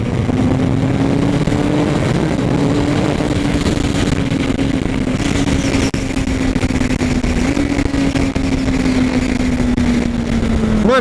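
A Honda CBR 1000 RR Fireblade sport bike at speed on the Interlagos track holds a loud, steady engine drone with only slight pitch shifts, heard up close as if from the rider's position.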